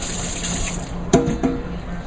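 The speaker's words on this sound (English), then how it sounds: "A little wash of the hands again." A kitchen tap runs steadily while hands are rinsed during turkey preparation, a close continuous gush of water with brief splashy bumps as the hands move under the stream.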